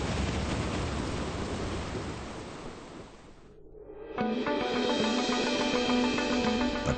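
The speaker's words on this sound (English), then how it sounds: "The Atlanta is weathering the storm, which is losing intensity." Storm at sea with dense rain and surf noise roaring steadily around a ship, then dropping briefly before a layered broadband wash with tonal elements resumes.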